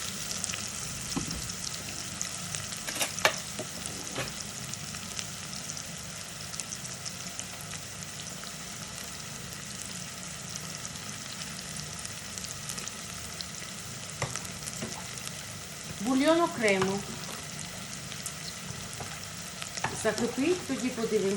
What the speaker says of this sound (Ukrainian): обжарюємо цибульку.